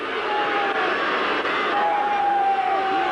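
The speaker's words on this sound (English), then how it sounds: "The crowd loudly booing that one." A stadium crowd at a 1981 Cronulla versus North Sydney rugby league match boos loudly after a disputed knock-on call, a dense, sustained roar of many voices with thin whistle-like tones drifting through it.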